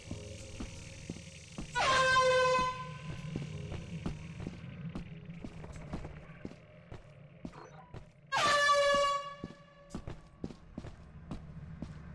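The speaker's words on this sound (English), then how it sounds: "Air horn!" Two loud, blaring air horn blasts from the video game Lethal Company, each about a second long, a few seconds apart over a low background hum and faint tapping.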